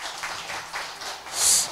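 An audience at a Thursday culture event in a memorial exhibition hall claps for the band and singer, a short burst of moderately loud, scattered applause that swells briefly near the end.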